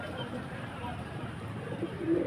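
Pigeons kept for sale coo in a low, soft murmur that swells slightly toward the end, set against a steady bed of background noise and indistinct voices.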